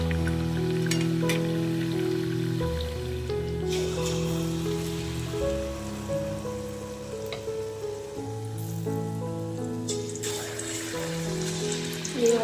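Malpua fry in hot oil, a steady crackling sizzle that carries on throughout, partly masked by louder background music with sustained tones.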